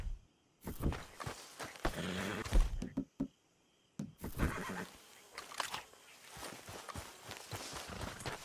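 A video game horse whinnies loudly and snorts amid shuffling hooves and footsteps on hard ground, the sounds coming in bursts separated by short silences.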